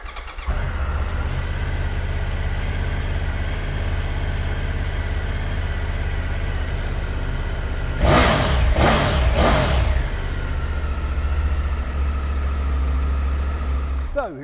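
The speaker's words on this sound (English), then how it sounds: "look no further than this absolutely superb Triumph Tiger 900 GT Low. So let's fire this one up and have a listen." A Triumph Tiger 900 GT Low motorcycle idles steadily at close range, a low even engine drone throughout, broken around the middle by a few quick revs of the throttle before settling back to idle.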